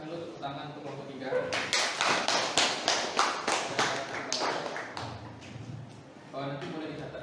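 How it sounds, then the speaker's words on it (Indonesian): A classroom applauds a student group with a burst of about three seconds of rhythmic, fairly close clapping, while voices talk before and after it. "Kita kasih dulu tepuk tangan untuk kelompok 3"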